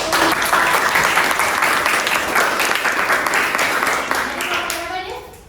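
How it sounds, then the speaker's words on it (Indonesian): A classroom of nursing students applauds a student group after a presentation, with loud, dense, sustained clapping that fades toward the end. "Aplaus dulu untuk"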